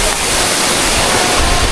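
Bruti Waterfall in the Margalla Hills near Islamabad, a loud, continuous roar of falling water heard close up, filling the scene with dense steady noise.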